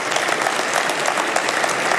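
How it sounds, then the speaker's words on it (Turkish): Steady applause fills a parliamentary general assembly chamber, dense rapid clapping from a large seated crowd, loud and continuous with no voices. "Hakan Fidan ve Mehmet Şimşek genel kurulda en çok alkış alan iki bakan oldu"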